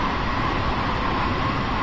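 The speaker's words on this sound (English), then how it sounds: "There's another train going the other way." A passing train in Train Sim World 2020 rushes by the other way as a steady, loud, broad rumble and roar filling the whole moment without a break.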